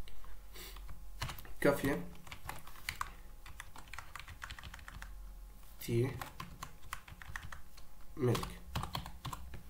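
Keys clatter on a computer keyboard in quick, light taps throughout, with a few louder strikes, while someone speaks over the typing.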